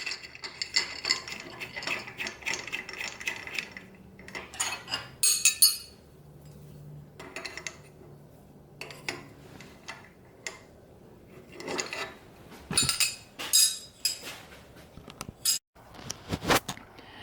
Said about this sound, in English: So then we hook the other end of the hose to the regulator.